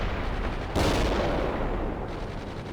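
Heavy gunfire from the real-time strategy game World in Conflict, a dense continuous battle din that swells suddenly and stays loud, with rapid shots blurring into a steady roar and no voices.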